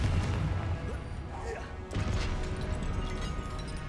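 Confringo fire spell blast in Hogwarts Legacy, a loud crashing burst set amid ongoing combat noise, with a sharp impact near the middle of the clip.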